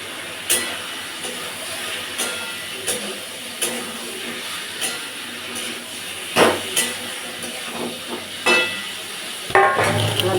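Chicken with turmeric sizzles after being poured into a hot pan in a home kitchen, giving a steady hiss. Scattered clinks and taps of utensils sound close by throughout.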